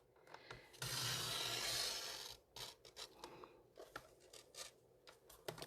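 Cardstock paper sliced on a paper trimmer while making a stamped greeting card, a brief loud scraping swish followed by softer rubbing and tapping from the trimmer mechanism, with no talking.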